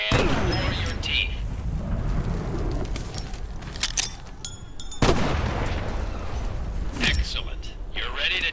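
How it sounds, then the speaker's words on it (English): In the WWII VR shooter Medal of Honor: Above and Beyond, a thrown grenade goes off with a loud blast. Further booming bursts and rumbling battle noise follow in several separate hits. "Now pull a grenade, arm the grenade, and throw it."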